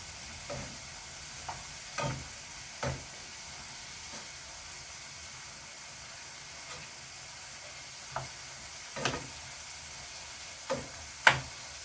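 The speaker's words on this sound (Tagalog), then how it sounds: "Nakulo na siya guys. Pwede na natin halo-haloin din." A spatula stirs sautéed dragon beans (seguidillas) with minced pork in a pan. There are scattered scrapes and clinks over a faint, steady sizzle, and no one talks.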